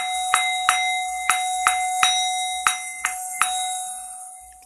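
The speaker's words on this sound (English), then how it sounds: "That sounded like jingle bells." Bright bell-like chimes resembling jingle bells, eight or nine sharp metallic strikes at a steady pace, each ringing on with a sustained tone, heard alone with no talk.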